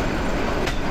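Sonar Bangla Express train approaching at night in Bangladesh, a brief steady rumble of rolling rail noise with no voices.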